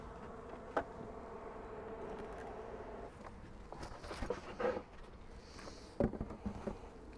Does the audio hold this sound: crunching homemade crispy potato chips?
no